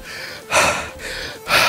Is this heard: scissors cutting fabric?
no